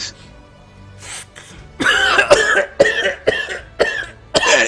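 A person coughs repeatedly, a series of harsh, close hacking coughs in quick succession after a quieter moment.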